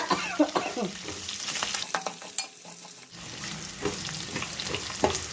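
Sliced onions are stir-fried in a pan, with a sizzling hiss broken by frequent scraping and clattering stirs of a spatula, moderately loud and close, with a brief quieter lull midway and no talking.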